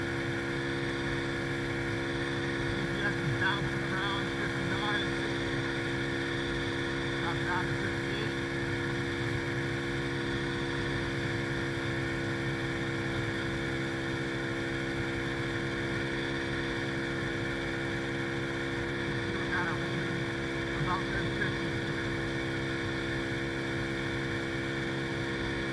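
A Boom Vader 125cc Grom-clone motorcycle engine runs at full throttle during a top speed run, holding a steady high-pitched drone with faint wind buffeting beneath it for the whole stretch.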